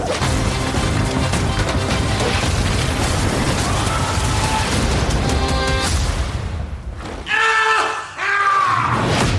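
A grenade explosion in a film blasts out as a loud, dense roar lasting several seconds, followed by sharp crashing bursts and a brief lull as the debris settles.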